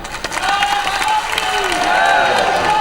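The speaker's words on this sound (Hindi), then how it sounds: "और जोरदार ताली।" Sustained applause from a large crowd at a political speech in Bhopal, steady and fairly loud, with some cheering mixed into the clapping.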